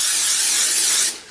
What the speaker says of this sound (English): let's go ahead and spray this Pam stuff